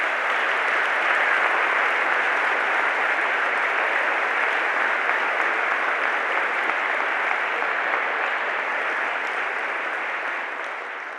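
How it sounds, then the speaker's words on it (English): A large crowd at a summer university graduation ceremony applauds in a broad, even wash of clapping that fills a hall for over ten seconds, easing off slightly at the close. "can we have a round of applause for them as well?"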